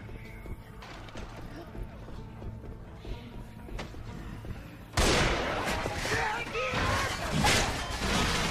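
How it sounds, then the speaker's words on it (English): Automatic rifle fire in Left 4 Dead 2, a sudden loud burst of gunfire midway that keeps crackling through the rest, after a quieter stretch with faint game noise and some talk. "It's like a sniper rifle, but a machine gun"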